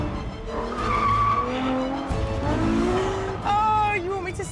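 A Ferrari F12 Berlinetta accelerates hard, its engine note sweeping upward in rising tones and briefly dropping at a gear change before climbing again, loud and close from the cabin.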